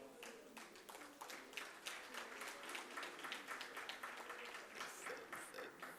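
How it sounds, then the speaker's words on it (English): A conference audience at the 2025 ATUPA international conference in Durban applauds steadily, with many hands clapping in a sustained, fairly quiet wash heard from a distance. "Thank you for clapping."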